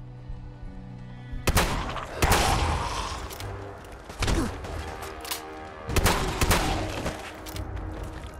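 Gunfire in a Fallout 4 battle: a series of loud, sharp shots and heavy booming blasts, some in quick bursts, ringing out close over a low background hum.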